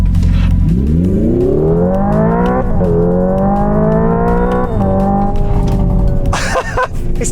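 A Hyundai Ioniq 5 N launches hard with simulated gear shifts, its synthetic engine note rising steeply in pitch, then dropping sharply at two distinct upshifts before climbing again, loud and close inside the cabin with a short burst of noise at the end.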